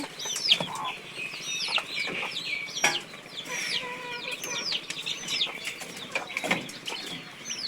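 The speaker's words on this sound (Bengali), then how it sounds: "এখানে সম্ভবত তিনটা মুরগি এবং একটা মোরগ আছে" Three-month-old native hens and a young rooster kept for laying cluck and chirp steadily nearby, with repeated short calls over a noisy yard background and the occasional sharp clatter.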